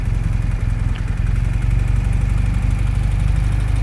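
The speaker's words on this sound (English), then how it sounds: "This thing idles. You can see it idles." A 1979 BMW R100S motorcycle engine idles close by, a loud, steady low throbbing pulse with even firing rhythm throughout and no voices.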